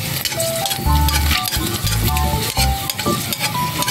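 Food frying in a little oil in a pan, a steady close sizzle with repeated stirring scrapes and utensil clatter throughout, with no talk.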